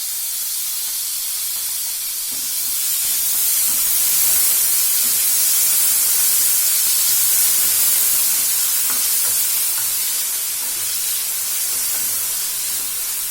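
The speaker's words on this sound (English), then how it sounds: "some chopped onion and green chilies and fry them for 2 minutes" Chopped onion, green chilies and tomato frying in a pan, a loud, steady hissing sizzle that swells and holds throughout with faint crackles.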